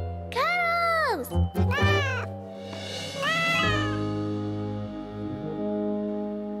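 A cartoon kitten meows several times in high, rising-and-falling cries, close and loud, alongside continuous music and a sustained tonal background.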